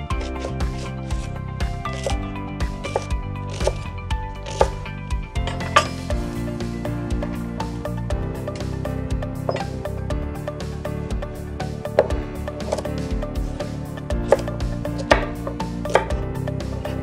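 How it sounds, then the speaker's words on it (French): Knife chopping cleaned, peeled vegetables into rough cubes on a board for a detox soup, a steady series of firm, close taps and knocks with a few clinks, no talk. "vous les coupez grossièrement en cubes"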